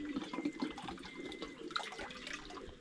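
A tap runs water during a water change in an animal compound, a steady splashing gush with gurgles and small knocks, fairly close and alone.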